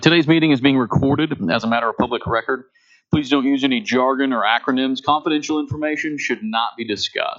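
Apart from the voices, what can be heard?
None of the usual background noises is heard.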